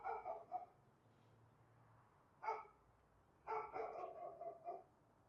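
A dog barks in short bursts, a couple of quick yaps at the start, a single bark near the middle and a longer run of barks toward the end, fairly close with quiet gaps between.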